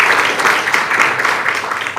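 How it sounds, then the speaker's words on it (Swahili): A crowd claps steadily at a shop opening in an SGR railway station in Dar es Salaam, a dense burst of applause filling the short moment at close range. "Naomba mjipigie makofi."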